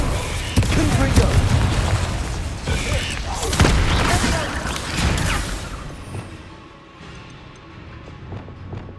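Spell explosions from a Confringo cast in Hogwarts Legacy combat, loud booms and crashing debris with a thick low rumble, then the noise thins and fades toward a quieter tail.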